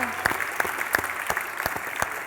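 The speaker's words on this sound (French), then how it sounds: "Une bonne main d'applaudissements, s'il vous plaît" A crowd claps steadily in a burst of applause, a dense patter of hands with a few sharper claps standing out, fairly close and lively.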